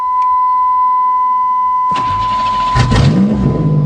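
A Buick Century engine, unstarted since January, cranks and catches, then settles into a steady idle with a rising rev, following a continuous warning beep tone.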